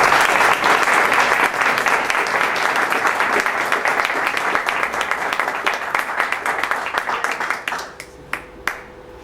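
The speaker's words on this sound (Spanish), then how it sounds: "Recibamos con un aplauso a la doctora Silvia Piña Romero" An audience at a mathematics lecture applauds loudly to welcome the speaker, with full, dense clapping that slowly thins out and ends in a few scattered last claps.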